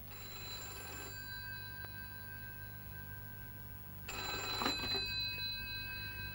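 Telephone bell ringing in a radio drama, two separate bursts of bright ringing separated by a pause, fairly clear over a quiet background.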